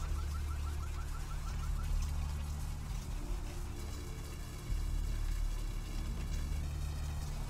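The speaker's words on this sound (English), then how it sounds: "I hate the sound of car alarms so much." A car alarm in the Vampire the Masquerade game repeats steady electronic warbling tones over a low constant hum and ambient city noise, looping throughout.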